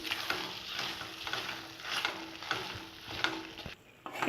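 Soaked rice is stirred in hot oil in a pan, a close scraping and sizzling swish repeating in slow strokes over a steady frying hiss.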